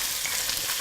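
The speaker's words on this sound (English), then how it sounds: "And we can saute this for a minute" Cauliflower florets sautéing in a pan, a brief steady sizzle heard close up with no talking.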